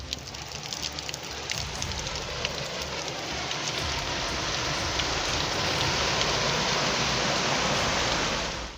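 Heavy rain pours down steadily during flooding in New York, a dense, loud, continuous hiss with no break and no voices.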